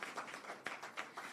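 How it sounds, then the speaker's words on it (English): Scattered applause from an audience at a school education press conference, a few rhythmic clap bursts, fairly faint and distant, with no talk over it. "Give them a round of applause"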